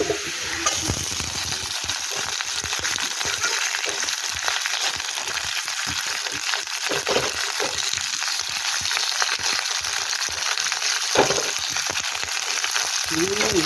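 Chopped onions fry in oil in a pan with a loud, continuous sizzle, punctuated by repeated scraping and stirring strokes throughout.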